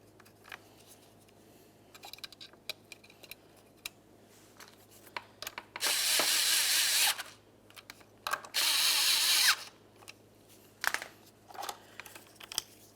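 Two short whirring bursts of a power driver running mounting bolts into a 2012-2017 Toyota Camry radiator fan shroud, surrounded by scattered clicks and handling noises close by.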